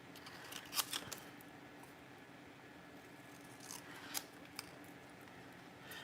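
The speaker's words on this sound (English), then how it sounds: "Okay, so I'm just going to now cut this out." Scissors snip out a paper shape in a quiet room, a few close, light cutting clicks and soft rustles spread across several seconds with no talking.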